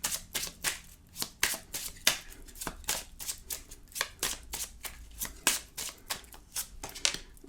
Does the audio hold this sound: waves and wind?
no